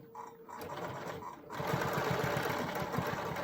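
A sewing machine stitches a seam through flannel fabric for a rag quilt blanket, starting with a few brief bursts and then running steadily with a rapid mechanical chatter, close and moderately loud.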